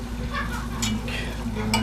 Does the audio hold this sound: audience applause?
no